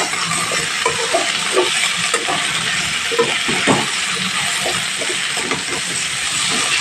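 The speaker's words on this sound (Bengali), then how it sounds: "এখানে আলুটা ভাজা প্রায় কমপ্লিট" Potatoes sizzle and fry steadily in a pan, a loud close hiss throughout with scattered scraping stirs of a utensil and no talking.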